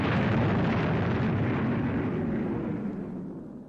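Retro rockets firing on a spaceship in a 1962 science-fiction TV series: a loud, continuous roaring rumble that holds steady, then begins to fade toward the end, with no talk over it.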